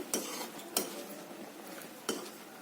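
Milk thickening in a pot for basundi, stirred with a spoon that knocks sharply against the pot a few times over a soft, steady simmering hiss.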